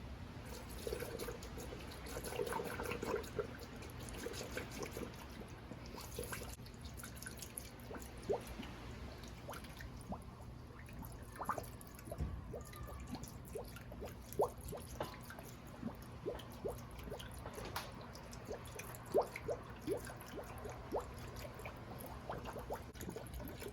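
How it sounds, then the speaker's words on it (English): Coolant pouring and dripping steadily into a car engine's filler with the engine off, with irregular trickles and drips over a low background hum. "Let's go ahead and put some coolant with the engine off."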